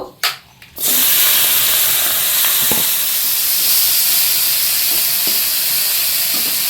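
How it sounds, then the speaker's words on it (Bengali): Prawns frying in a pan give a loud, steady hiss and sizzle that starts after a brief clatter and holds throughout. Faint ticks and pops come through the spray, and no one speaks. "তার আগে চিংড়ি মাছটা ভেজে নেব"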